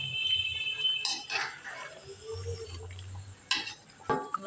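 Potato, chicken and cauliflower curry being mixed in a pan: a spoon clinks and scrapes against the metal, with a few sharp knocks and soft stirring sounds, fairly quiet and close.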